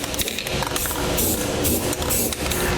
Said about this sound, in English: I like to use a little bit of clear spray paint just to help protect the bare metal